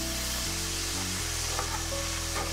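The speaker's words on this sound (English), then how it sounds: "as the sausage is cooking, it renders oil because, you know, pork is usually fatty" Chorizo pork sausage frying in a pan with little added oil, giving a steady, close sizzle that holds evenly throughout with no talking.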